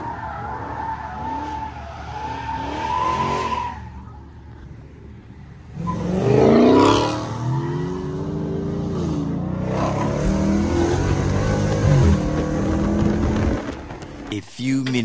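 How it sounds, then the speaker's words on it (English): Cars sliding and skidding at a street car gathering in Detroit, with loud tire squeals and engines revving up and down close by, while people talk in the background. "Basically, all the cars are sliding and stuff like that."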